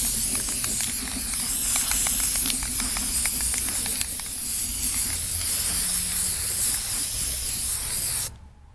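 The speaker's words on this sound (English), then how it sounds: "these are all of the posters that I have to spray, and I am going to start spraying them now" A spray can hisses steadily as coats go onto stone coasters, a continuous close hiss lasting about eight seconds before cutting off abruptly.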